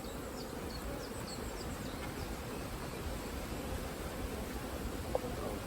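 Honey bees hum around an opened hive on a cool spring day, a steady low buzzing drone with brief higher-pitched fly-bys, continuous and fairly faint, with one small knock near the end.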